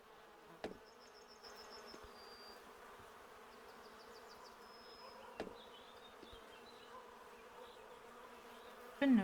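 Bees buzz near beehives at an outdoor beekeeper's picnic, a faint, steady insect hum with a few brief whining passes, broken by sharp knocks.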